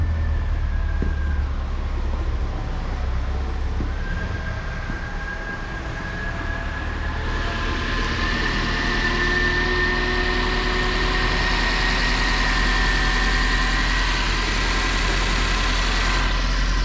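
A Suzuki Jimny 1.3 M13A VVT swapped engine idles steadily and loudly for the whole stretch, a low rumble with a faint whine rising partway through; no one speaks.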